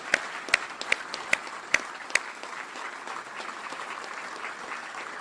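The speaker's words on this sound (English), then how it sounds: "How about a big round of applause for the great Lieutenant General Maria Barrett." Applause from an audience at a U.S. Army Cyber Command change-of-command ceremony, a steady broad wash of clapping with a few sharper claps standing out early, moderately loud and continuing for several seconds.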